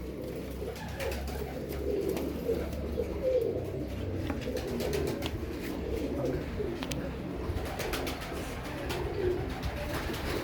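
Imam Deen and Kamangar pigeons coo steadily and close by for the whole stretch, soft repeated throaty calls over a low background hum, with no talking.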